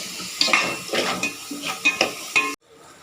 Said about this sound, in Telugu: ధనియాల పొడి గరం వేసుకుని బాగా ఫ్రై చేసుకోవాలి